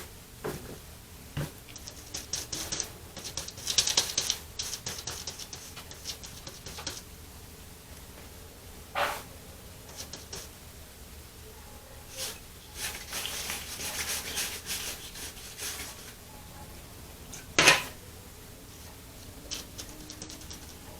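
Paint being scraped into on a painting, soft rubbing and scratchy strokes in intermittent bursts with a few sharper scrapes, close but quiet, no talk.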